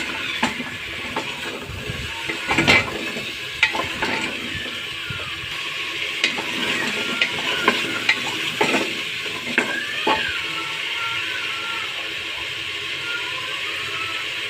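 Taro and beef are stirred in hot oil in a cooking pot, with a steady sizzle of frying and repeated scraping clinks of a spoon against the pot, loud and close with no talking.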